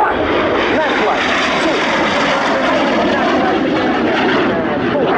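Frecce Tricolori aerobatic jets roar past during a display, a loud, steady broadband engine rush that holds for several seconds without fading, with a commentator speaking over it.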